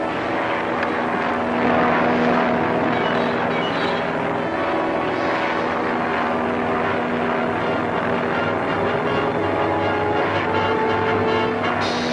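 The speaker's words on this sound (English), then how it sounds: "The plane's out of control." An airplane flies out of control, a steady droning engine roar with a sustained low hum that holds loud and unbroken throughout.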